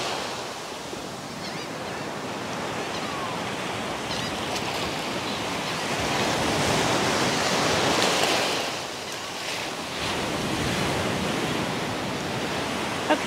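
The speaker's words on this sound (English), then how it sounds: "That surf is tough." Ocean surf breaks and washes continuously on a Gulf Shores, Alabama beach, a loud broadband roar that swells and recedes in waves, heard alone without talk.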